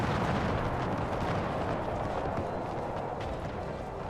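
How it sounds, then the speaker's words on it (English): Musket volleys from light infantry in the video game Empire Total War 2, a dense, continuous crackle of distant gunfire layered over battle noise, steady and loud throughout with no talk. "now we got Nick's light infantry starting firing over here"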